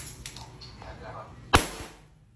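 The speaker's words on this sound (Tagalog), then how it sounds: "Ayun, grabe. Ang lakas ng putok." A homemade firecracker made from paper and match heads goes off with a single sharp crack, loud and close, after a few quieter rustles and faint sounds, with a small trailing click just after the bang.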